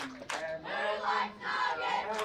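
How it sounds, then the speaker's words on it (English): A cheer squad at a girls' U15 national tournament match, with several voices chanting and yelling together in loud rising bursts close by, one after another. "I've got a cheer squad right beside me"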